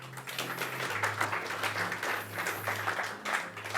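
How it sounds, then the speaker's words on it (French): Audience applause for a volunteer called on stage at a mentalism and paranormal show in Montpellier, a steady, moderately distant clapping that holds for several seconds beneath a low sustained hum. "On l'applaudit, oui?"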